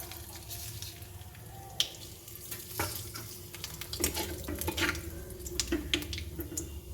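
Black cumin seeds (kalo jeera) sizzle in hot oil for a hilsa curry, a soft close frying hiss with scattered pops and stirring clatter that grows busier toward the end.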